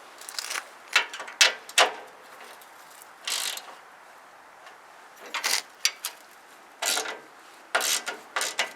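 Socket ratchet tightening a bolt during work on a lawn care tractor fitted with a Billy Goat debris loader: bursts of rapid clicking pawl ratcheting, several separate strokes with short pauses between, close and fairly loud, no talking.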